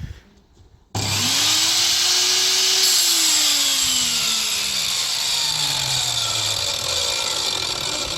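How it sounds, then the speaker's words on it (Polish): A loud Scheppach HS100S table saw motor starts abruptly with a jolt after a brief quiet moment, its pitch climbing then settling into a steady, harsh whine. "całą piłą aż szarpnęło podczas startu"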